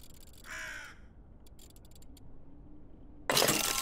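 Bird cawing in the co-op video game Tick Tock: A Tale for Two, a single harsh caw, then a brief run of faint clicking ticks and a sudden loud glassy crash near the end.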